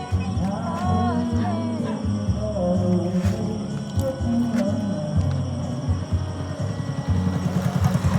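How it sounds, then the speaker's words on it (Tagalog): A household electric fan hums steadily with a low, throbbing drone that persists evenly throughout, with no talking. "May electric fan."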